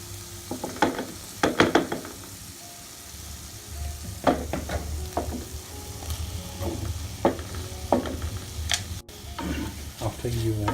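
Onion and capsicum sizzle in a pan of frying liver, with repeated stirring scrapes and clatters over a steady background hiss, loud and close.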